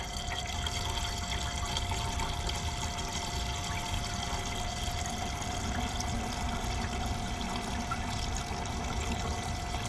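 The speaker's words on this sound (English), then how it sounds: "All right, the water pump is on." A water pump running after a power outage pushes water through a line, a steady rushing, pouring flow with a constant mechanical hum underneath, close and continuous with no talking.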